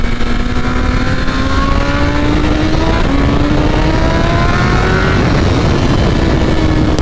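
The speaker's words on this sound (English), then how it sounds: "The engine is so powerful." A tuned 2023 BMW S1000RR sport bike with a flashed ECU pulls hard, its engine note climbing steadily and loudly through the revs under heavy wind rush.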